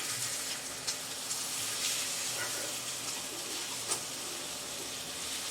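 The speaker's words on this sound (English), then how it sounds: "I'm just cooking these pork chops on medium." Pork chops sear in a pan over medium heat, a steady quiet sizzle and hiss with a few small pops and ticks, no talking.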